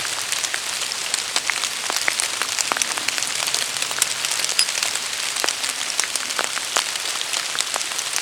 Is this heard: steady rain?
yes